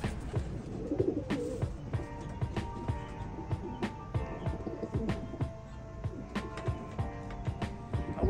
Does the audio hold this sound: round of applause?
no